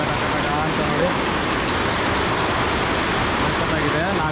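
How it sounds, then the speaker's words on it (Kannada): Rain patters steadily outdoors at a small tea estate in Munnar, Kerala, making a dense, continuous hiss of drops that stays loud and even throughout. "ಔಟ್ ಸೈಡು ಮಳೆ ಬರ್ತಾ ಇದೆ ಹಂಗೆ ಟಕ ಟಕ ಟಕ ಅಂತ"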